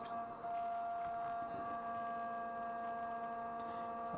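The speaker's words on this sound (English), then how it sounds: "So how is my CNC machine doing?" CNC router steadily milling bookshelf parts, a continuous mechanical whine with sustained steady tones and a faint rattle of debris, constant and moderately distant with no talking.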